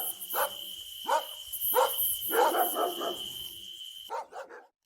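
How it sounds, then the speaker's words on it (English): Dogs bark repeatedly in a quiet residential neighborhood, sharp barks and yips in an uneven run with a steady high whine underneath, fairly distant and echoing, with no talking. "The sound of dogs echoes in the air."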